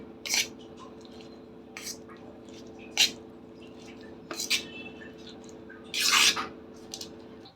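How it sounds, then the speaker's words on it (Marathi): A spoon mixes koshimbir salad ingredients in a bowl, making a handful of separate, soft wet squishes and clinks at irregular intervals, close and quiet. "आता हे सर्व आपण व्यवस्थित मिक्स करून घेऊया"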